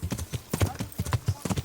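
Horse hooves clip-clop at a brisk, steady rhythm in the video game Kingdom Come: Deliverance, the hoofbeats close and distinct.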